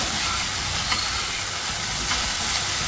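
Okra (dhenrosh) fries in a pan with a dense, even hiss of sizzling oil, close and steady throughout with no voices.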